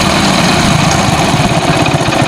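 A motorcycle engine idles at deliberately lowered RPM, a steady, loud, close-up rumble with a fast even throb that runs continuously without any talk.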